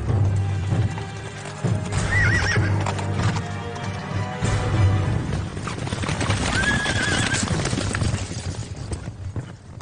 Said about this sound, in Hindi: उस घोड़े को पकड़ कर लाओ